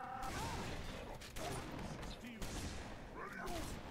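Shotgun blasts and gunfire from the Halo 3 Crow's Nest mission, loud and dense throughout with repeated bursts, explosions and game effects, with a voice talking over them.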